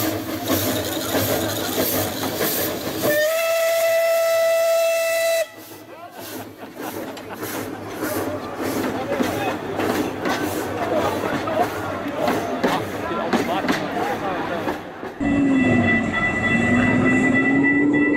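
Ancient steam engine train beside a football match venue in Slovakia, with loud steam whistle blasts at start and end and rumbling, hissing train noise passing close by in between, with voices underneath.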